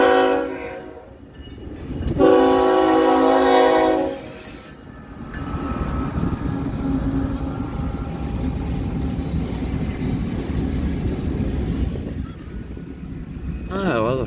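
An eastbound freight train on the Blair Fremont line blasts its horn in a loud two-second burst, then rolls past with a steady, heavy rumble of wagons that carries on to the end.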